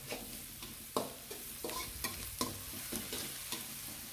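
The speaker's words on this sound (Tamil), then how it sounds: "வெங்காயம் சீக்கிரமாக வெங்காயம் வதக்கிறத நம்ம டேஸ்ட் பண்ணுறோம்" Onions sauté in a pan, a soft sizzle broken by a run of regular scraping stirs about every half second, close and fairly quiet with no voices.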